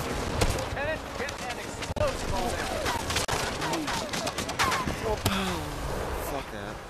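Video game gunfire aimed at the player, with rapid shots and bursts crackling densely throughout amid chaotic battle noise, while a person talks over it.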